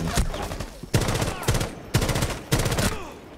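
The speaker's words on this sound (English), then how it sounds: "I didn't even know where he was shooting at me from." Gunfire in the tactical shooter game Rainbow Six Siege, heard as loud, dense bursts of automatic shots in about four rapid volleys with brief pauses between them, up close.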